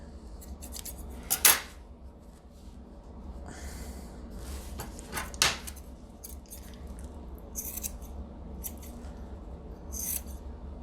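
Scissors trimming a yarn pom-pom for a handmade ornament, with a series of close, crisp snips spaced irregularly, a couple of louder cuts among them, and no talk.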